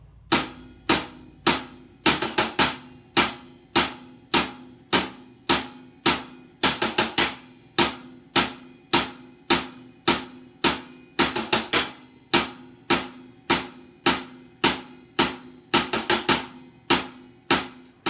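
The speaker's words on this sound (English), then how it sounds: "there's this little flurry of hi-hat notes" A steady, crisp hi-hat pattern ticks throughout, with quick triplet flurries bursting in every couple of seconds; loud, close, and with no talking.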